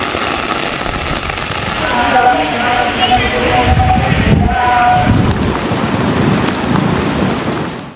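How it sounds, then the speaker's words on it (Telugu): Heavy rain driven by gusty winds during Cyclone Montha in the Nalgonda area pours down in a loud, constant roar, with a faint voice briefly audible in the middle. "యాదాద్రి భువనగిరి జిల్లాల్లోనూ ఈదురుగాలులతో కూడిన వర్షం కురిసింది"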